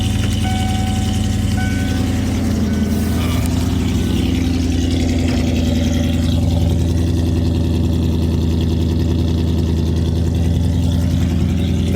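A 1996 Mustang GT with a V8 and a pair of Summit Racing mufflers runs steadily nearby, a continuous deep exhaust rumble holding without pause for the whole stretch.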